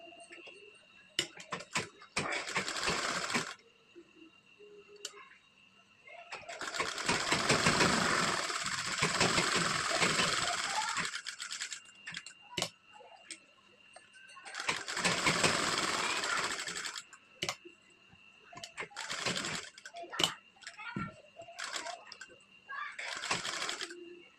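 Sewing machine stitching the back part of a blouse with lining fabric: repeated bursts of rapid mechanical whirring, some long and some short, separated by quiet pauses and small clicks.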